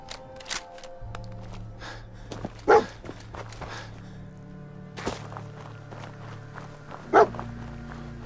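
Dogmeat, the canine companion in Fallout 4, gives two short sharp barks a few seconds apart over low game ambience, steady hum and soft footsteps, with no talk.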